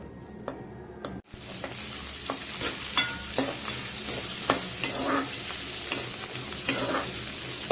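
Onions sizzle and crackle in a hot pan while a utensil stirs them in repeated scraping strokes; a brief gap comes early before the frying resumes.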